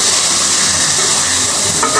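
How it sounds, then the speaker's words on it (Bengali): Katla fish and onions frying in a pan with no water added give a steady, loud broadband hiss and sizzle that runs unbroken throughout. "মাছ এবং পেঁয়াজটা কিন্তু খুব ভালো করে ভাজি করে নেব।"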